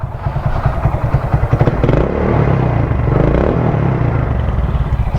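A motorcycle fitted with a Euro One silencer exhaust runs close by, its engine thumping in a quick rhythmic pulse and then settling into a steady, loud drone.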